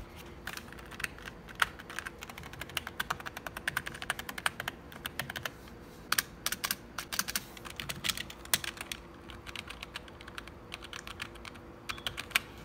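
Typing on a MageGee K1 gaming keyboard, a rapid, irregular run of close, crisp key clicks that continues without a break throughout.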